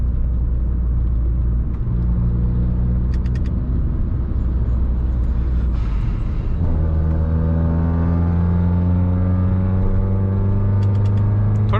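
A car cruises at speed on a six-lane highway with steady road and engine rumble; partway through the engine note shifts higher and holds, wide tires' noise continuing throughout.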